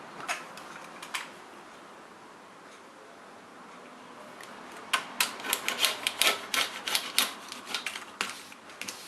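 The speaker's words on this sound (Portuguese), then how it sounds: "Então, eu já vou cortar o zíper." Scissors snipping through a zipper while sewing a fabric pouch: a few sharp clicks and rubs early, then a quick run of close, crisp cutting snaps near the end, with no talk.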